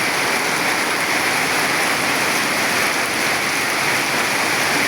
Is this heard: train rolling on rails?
no